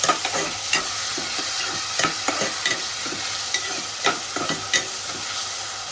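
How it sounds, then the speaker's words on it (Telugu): Chopped onions and green chillies sizzle in hot oil as they are stirred, a continuous frying hiss punctuated by sharp spoon taps and scrapes against the pan, close and clear with no talking. "ఆనియన్స్ అనేవి మనకి బ్రౌన్ కలర్ వచ్చేంత వరకు మనం ఫ్రై చేసుకోవాలి ఆయిల్లో"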